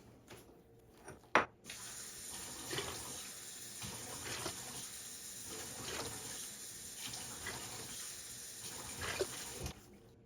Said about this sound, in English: And now I'm going to add 5 cups of water to this.